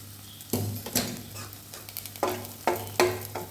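Red chilli and curry leaves stir-fried in a pan for a vegetable thoran, with a steady sizzle broken by repeated scraping strokes of the spoon, heard close and with no voices.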